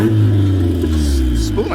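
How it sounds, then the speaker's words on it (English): A turbocharged Honda Civic running 16 pounds of boost gives a short rev with the turbo spooling, a loud, steady rumbling engine note that carries on evenly for under two seconds. "I just like give it a little rev, and it's like"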